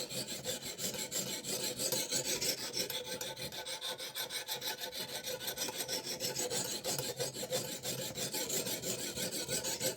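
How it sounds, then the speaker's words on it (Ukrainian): Steady, continuous rasping of a knife edge drawn back and forth on sandpaper in a simple sharpening jig, a close, even scraping that runs the whole time with no speech. "Це буде заточувати саме саме краєчок леза."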